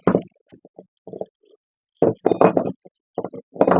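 A tiny pipe wrench is picked up and handled in metal-working gloves, giving a few soft scattered handling knocks followed by two brighter metallic clinks with a short ring.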